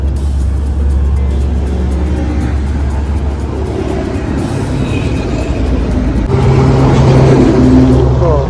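Buses pass on the road outside Terboyo bus terminal in Semarang, producing a loud, continuous engine rumble and traffic roar close by, with a heavier vehicle note swelling near the end.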